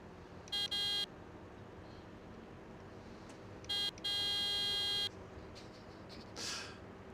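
Electronic beeps in the farming game Farming Simulator 17: two short tonal bursts, a pause, then another short beep followed by a longer sustained tone, over a low steady engine-like drone.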